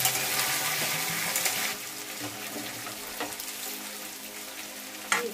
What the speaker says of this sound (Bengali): টমেটোটাও দিচ্ছি, একটু লঙ্কা গুঁড়ো দিচ্ছি, আলুটা কষিয়ে নিচ্ছি।